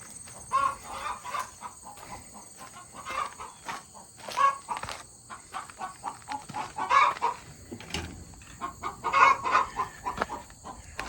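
A hen with a broken leg, tucked behind a door, clucks in short, uneven bursts across a quiet coop, soft and close, with a steady background hum and no talk.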